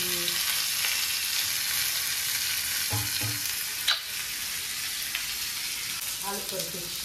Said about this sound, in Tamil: வறுத்தா எப்படி இருக்குன்னு பார்ப்போம்.